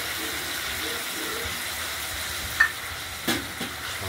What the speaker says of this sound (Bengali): আমরা এবার আলুর সঙ্গে এই মশলাটা কষিয়ে নেব।